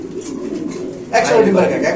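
Mundian pigeon cooing at a pigeon market, a soft low coo that rises sharply about halfway through, heard close with people talking.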